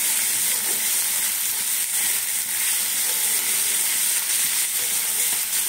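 Onions fry in hot oil until crisp for an onion paratha filling, giving a loud, constant close sizzle and hiss with faint occasional stirring; no talking.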